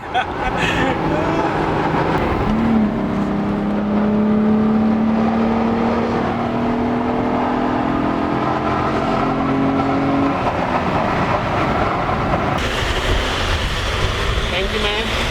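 A VW Golf VR6 engine revs loud and close, its pitch climbing steadily for several seconds before easing off, with voices faintly in the background.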